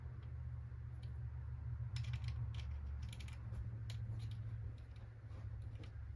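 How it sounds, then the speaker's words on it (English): A nut on the platen rod of a Lettera 32 typewriter being loosened with a tool: a run of small dry clicks and creaks, close and quiet, over a steady low hum. "we're just gonna loosen up that nut"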